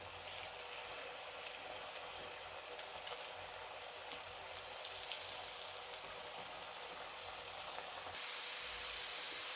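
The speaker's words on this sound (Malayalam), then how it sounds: "എണ്ണ നല്ലതായിട്ട് ചൂടായിട്ടുണ്ട്. നമുക്കിത് ഇട്ട് കൊടുക്കാമേ." Kaliyadakka dough frying in hot oil gives a dense, steady hiss and crackle, close and even, swelling slightly louder near the end.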